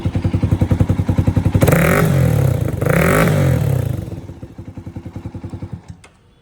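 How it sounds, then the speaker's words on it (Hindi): A Jawa 42 Bobber motorcycle fitted with a dB killer exhaust, loud and close, thumping at idle before two sharp revs, then settling back to a pulsing idle that cuts off at the end. "मैं करता हूँ बाइक को रैप।"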